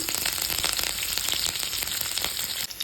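Small onions frying in hot oil with popping mustard seeds, a loud, continuous sizzle with dense crackles throughout.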